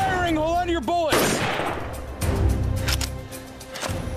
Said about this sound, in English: Gray, stop firing!